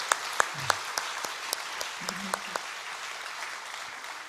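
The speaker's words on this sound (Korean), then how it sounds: "박수 한번 할까요?" A church congregation claps for its pastoral staff during a prayer service, a thin, scattered patter of hands with a few sharper claps standing out at moderate distance, while a voice briefly speaks partway through.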